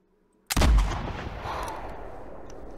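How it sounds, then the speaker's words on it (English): A hunting rifle fired at a female bison in the video game theHunter Classic, a single sharp, loud shot followed by a long echoing rumble fading out. "Looks like we made a pretty good shot on that female"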